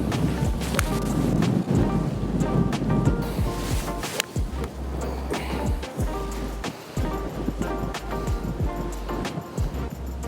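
Gusty wind roars across a golf course during a match, a steady loud rushing buffet on the microphone with low rumble throughout and no voices.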